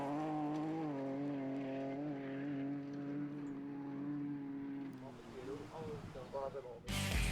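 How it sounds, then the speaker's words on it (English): A BMW E46 M3 rally car drives a rally stage, its engine a sustained tonal drone that holds steady, then shifts and breaks up near the end. A voice talks over it. "Here's Melweg with his E46 BMW M3."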